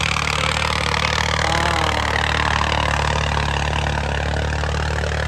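A steady, low tractor engine idles continuously with a constant rumble and no breaks, the noise filling the whole stretch.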